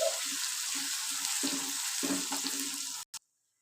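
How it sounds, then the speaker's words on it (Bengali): Powdered spices, including red chili and Kashmiri chili powder, fry in oil in a pan for a potato and egg pulao, giving a steady soft sizzle broken by scraping stir strokes, before stopping abruptly near the end. "সমস্ত পাউডার মশলাগুলো ভালো করে কষিয়ে নেব।"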